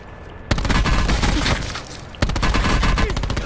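Rapid video-game gunfire bursts out in two loud, dense volleys, the first running about two seconds and the second starting after a brief dip, with sharp shot transients throughout.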